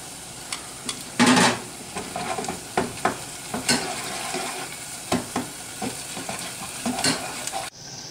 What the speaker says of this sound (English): Add the pancetta, cook for 3 to 4 more minutes.